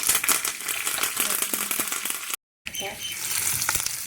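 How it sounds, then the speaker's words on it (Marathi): Cumin, mustard seeds and curry leaves sizzle in hot oil for a tempering, a dense crackling hiss that fills the clip, broken by a brief silent gap before the frying resumes. "फोडणीसाठी तेल ठेवलं आहे त्याच्यामध्ये जिरे मोहरे घालते त्याच्यानंतर कढीपत्त्याची पानं घालते"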